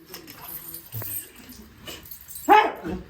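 A dog barks once, loud and close, near the end, after a quiet stretch with faint background voices.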